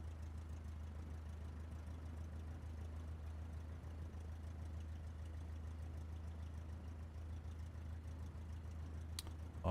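A light aircraft's engine idles steadily during taxiing in Microsoft Flight Simulator, a constant low rumble that holds evenly throughout with no talk, ending with a brief sharper click.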